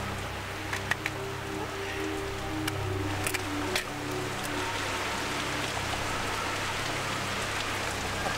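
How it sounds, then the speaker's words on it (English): Heavy, steady rain pours in the video game Metal Gear Solid 2, a loud continuous hiss with occasional sharper drips and a low hum beneath. "that rain is incredible."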